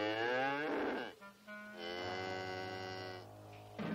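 A cow moos twice, long, loud and close, the second call drawn out and steady, with a brief gap between and no talk.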